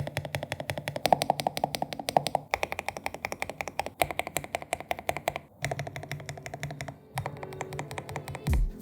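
Keys clatter on an EK98 mechanical keyboard with plate-mounted stabilizers, bursts of close, crisp clicky strokes in quick irregular runs separated by brief pauses.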